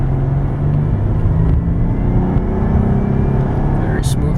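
A 2004 Mercedes-Benz E320 Sport pulls away hard from a standstill at roughly three-quarter throttle, its engine a steady, loud low rumble heard from inside the cabin throughout.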